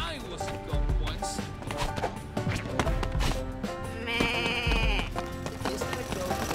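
Goats bleat in Goat Simulator 3 amid busy game music and effects. A few short bleats rise over the layered score, with footsteps and thuds around them.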